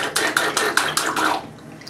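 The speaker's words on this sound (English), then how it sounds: "Let's see you splash." A baby named Harrison splashing water in a bathtub, a run of about six rhythmic slaps and sloshes close by, then fading out.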